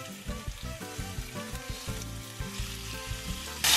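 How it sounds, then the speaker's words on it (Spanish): Pork loin fillets sizzle and fry in olive oil in a pan, a steady close crackle running throughout with a louder burst near the end. "En esa misma sartén agregamos otro chorrito de aceite de oliva y agregamos nuestros filetes de cinta de lomo."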